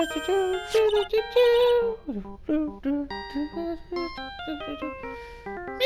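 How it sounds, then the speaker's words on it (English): A phone ringtone plays in Phoenix Wright: Ace Attorney as a bright, tonal chiming melody of quick stepped notes, fairly clear and alone, repeating in short phrases. "I don't like the sound of this ringtone right now"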